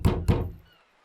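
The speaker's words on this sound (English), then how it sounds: "I knock, but there's no response." Two firm, hollow knocks land on a sturdy metal door in Disco Elysium, close and quick in succession, then fade into a brief ringing decay with nothing else heard.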